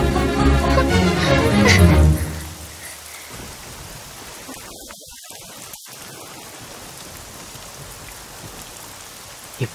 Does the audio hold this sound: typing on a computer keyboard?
no